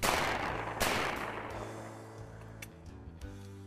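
A shotgun fires while quail hunting in Georgia: two sharp, loud blasts about a second apart, each trailing off in a long echoing decay across open country.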